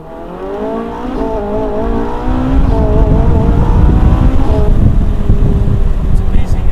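Ferrari 458 Italia under hard acceleration with manual gearbox, loud close engine note rising in pitch through several quick shifts, building to a sustained roar.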